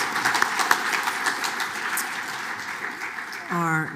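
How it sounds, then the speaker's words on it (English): A town hall audience applauds the panelists of a Black men's wellness event, a dense, steady wash of clapping from many hands that carries on throughout, with a voice rising briefly near the end. "Let's give a round of applause to all of our panelists"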